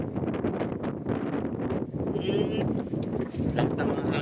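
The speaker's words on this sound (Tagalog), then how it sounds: "Lakas na mga hangin mga kusay, pasensya na po. Napasok sa ating video." Strong gusts buffet the microphone in a continuous low rumble while a person talks underneath.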